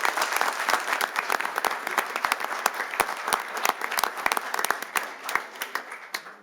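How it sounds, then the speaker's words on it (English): Applause from the audience at a city council meeting, a dense, steady wash of many hands clapping for the full stretch, close and loud, with sharp individual claps standing out and tapering slightly at the end. "One more big round of applause for Isho."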